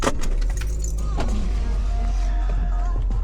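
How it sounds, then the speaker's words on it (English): People climb back into a car, with keys jangling, rustling movement and a door handled against a steady, loud low interior rumble. "Back in the car."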